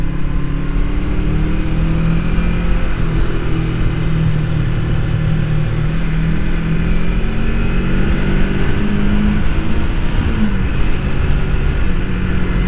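Engine of a 1989 Suzuki GS500 cafe racer on a test ride, a loud, steady mid-pitched drone with wind rush and gentle pitch swells as the revs shift.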